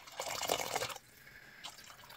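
Water pours into a cooking pot of bean soup in a short, splashy burst, then falls quiet before a brief second trickle; the sound is faint and close, with no voices.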